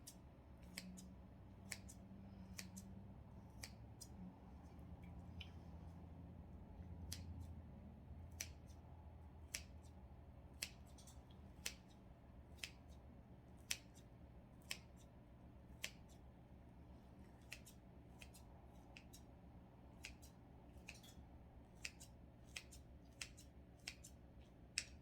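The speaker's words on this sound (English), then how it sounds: "So just do a snip that way, and a snip that way." Scissors make sharp, quiet snips through hot cross bun dough, about two dozen in a steady, unhurried rhythm against a faint room hum.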